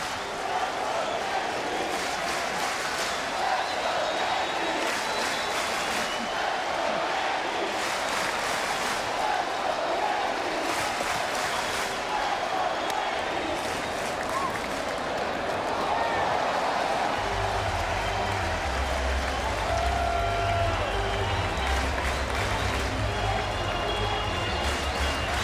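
A Yankee Stadium baseball crowd roars steadily through a game, a dense sustained wash of cheering with scattered claps, while an announcer talks over it.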